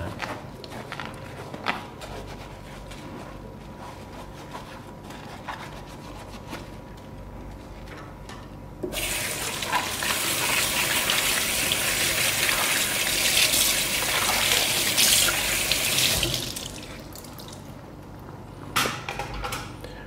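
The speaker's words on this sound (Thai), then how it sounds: "สำหรับถ้วยกรองชั้นนอกก็เช่นเดียวกันครับ เราแค่เปิดน้ำไหลผ่าน" Tap water pours over the outer filter cup of a Hurom H100 juicer as it is scrubbed with a sponge, a loud steady gush lasting about seven seconds, framed by quieter handling and clatter before and after.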